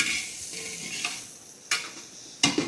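Curry leaves hit hot oil for a hotel-style puri curry, crackling and sizzling in a fading hiss broken by three sharp spatter bursts, close and distinct with no speech.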